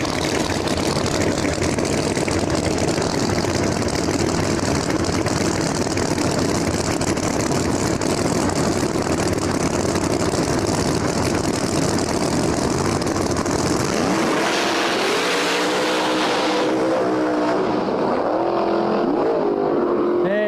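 No-prep drag race cars, a Nova and a Mustang, at New England Dragway, loud rumbling idle for several seconds before a roaring launch that rises sharply in pitch and quickly fades away.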